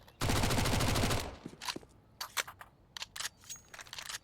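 A Mag 10 shotgun fires in Counter-Strike 2, one loud close blast ringing briefly, followed by a string of sharp mechanical reload clicks and clacks.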